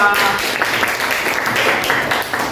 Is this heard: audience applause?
yes